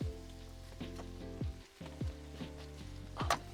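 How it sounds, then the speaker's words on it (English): Onions, celery and carrot sizzling and crackling steadily in a hot pan for a veggie bean chilli, with a few sharp clinks and stirring scrapes punctuating the frying noise. "I want that sizzling a bit more, so I've turned it up."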